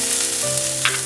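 White onions sautéing in a pan lightly coated with cooking spray give a close, steady sizzle over a low background hum, with a brief scrape near the end.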